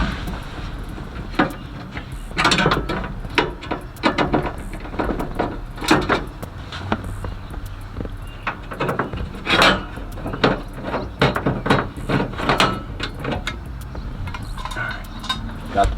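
Work on the passenger door of a Chevy box truck as three screws come out of the door plate: close metallic clicks, scrapes and rattles in irregular bursts over a steady low background hum, with no talk.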